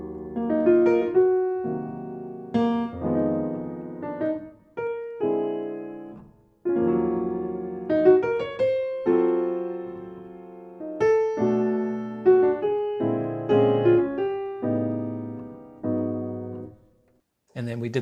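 A solo piano plays the first line of a jazz standard with rich jazz chord voicings, slow expressive phrasing, sustained chords and melodic runs, close and unaccompanied, ending with a brief pause.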